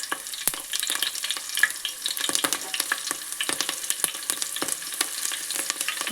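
Green chillies fry in hot oil during a chicken curry preparation, giving a close, continuous crackling sizzle with many sharp pops and spatters and no talk.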